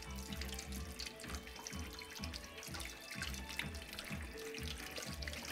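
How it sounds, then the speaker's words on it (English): Steady tap water runs into a sink while a kitchen whisk is rinsed, a continuous close splashing stream with faint rattles of the metal wires and no voices. "I have to clean the whisk now."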